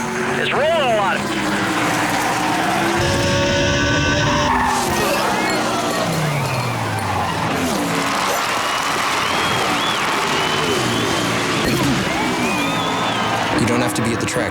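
Stock cars roar loudly and continuously in EA Sports NASCAR during the 2004 EA Sports 500, with tires squealing and engine pitch sweeping as cars pass, while voices talk over the racing.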